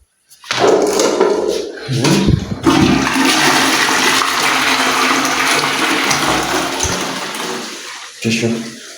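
A toilet flushes in a rented room in Eldoret, a loud close rush of water swirling and draining for several seconds before tapering off, with brief thuds at the start and a short gurgle at the end.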